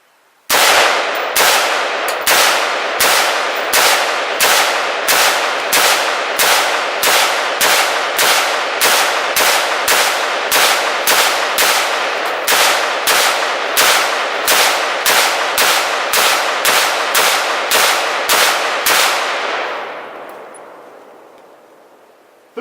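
About thirty NATO armor-piercing rounds fired at a ballistic barrier, loud sharp shots in a fast, steady string with ringing impacts, ending in a decaying tail and no talk.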